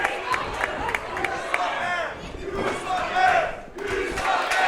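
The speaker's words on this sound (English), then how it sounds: "Oh, listen to this crowd." A loud wrestling crowd roars and chants continuously at the start of an indie match, dense overlapping shouts and cheers swelling and dipping without pause.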